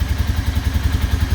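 Rebuilt 2015 Polaris Ranger 570 UTV engine running just after first start, a close, loud, steady low-pitched throb with rapid rhythmic pulsing and mechanical clatter, no voices.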